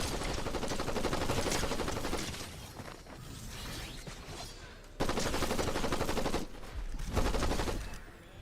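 Loud, dense bursts of gunfire in the battle royale game Fortnite, including shotgun blasts, in two heavy stretches broken by a brief quieter gap, with crashing impact effects mixed in.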